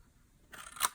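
Scissors snip a notch in a paper gift card box, a quiet crisp cut with two close snips near the end, close and alone.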